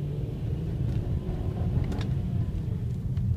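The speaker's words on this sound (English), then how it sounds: "we'll do a full throttle acceleration on ice" A car accelerates at full throttle on ice, giving a steady low engine rumble that holds level throughout with no clear rise in pitch, and the power seems cut back.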